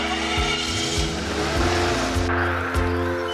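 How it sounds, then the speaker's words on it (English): A car engine runs and revs while the car drives, steady motor noise with a few surging changes in pitch and what may be brief tire scrubbing, close and fairly loud. "Start the engine."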